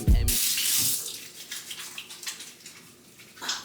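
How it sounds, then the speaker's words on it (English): Water gushes from a running kitchen tap as hands are washed, a loud close splashing rush that eases into softer trickling and sloshing, then swells again briefly near the end, no speech. "make sure you wash your hands, guys"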